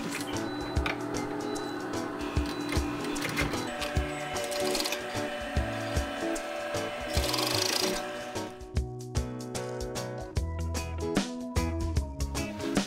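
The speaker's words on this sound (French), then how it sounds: "Et maintenant, on est prêt à coudre l'ourlet. Donc, je vais venir faire une couture où était la couture originale." A sewing machine stitches the hem of a tote bag made from old denim jeans, running in quick rhythmic bursts of mechanical ticking and whirring with brief pauses.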